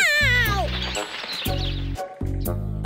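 Cartoon cat meowing: a long, sliding, whiny meow opens, followed by shorter meow-like cries over bouncy, buzzing tonal beats that stop and restart in short blocks.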